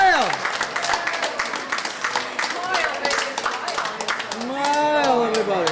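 A studio audience at a candlepin bowling show for kids claps together, a steady patter of applause under and between spoken voices, swelling louder toward the end.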